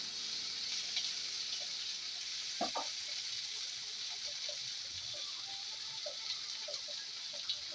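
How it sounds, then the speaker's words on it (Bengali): Potato curry (alur dom) being sautéed in a pan, a soft steady sizzle heard faintly throughout with a few light scrapes and knocks of a spoon, no talking. "ভালো করে একটু কষিয়ে নেওয়া হচ্ছে আলুর দমকে"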